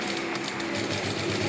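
Sewing machine stitching a lining and main cloth together for a midi dress, a steady continuous mechanical whir at close range with no speech.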